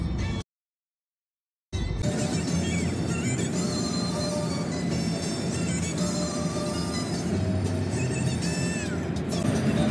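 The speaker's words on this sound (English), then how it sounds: "So we are currently in motorway now. We're driving, heading." A car drives along a motorway, with steady road and engine rumble filling the cabin after a brief moment of silence at the start, and faint tonal whines running over the continuous drone.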